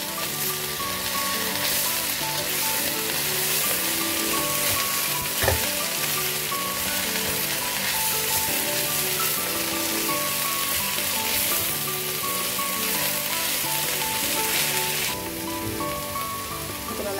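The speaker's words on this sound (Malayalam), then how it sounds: "ഇതിലേക്ക് നമുക്ക് എടുത്ത് വെച്ചിരിക്കുന്ന മുരിങ്ങക്കീര ചേർത്ത് കൊടുക്കാം. നന്നായി മിക്സ് ചെയ്ത്" Drumstick leaves sizzle steadily in a hot pan while being stirred, a dense, continuous frying hiss with faint scraping that holds nearly constant throughout, no talking.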